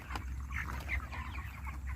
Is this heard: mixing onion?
no